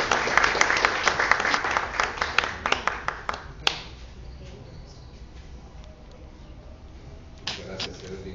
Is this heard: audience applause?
yes